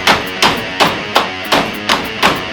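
Seven sharp hammer strikes land at an even, steady pace, each a crisp close-up impact in a workshop setting with a short ringing decay and no voices.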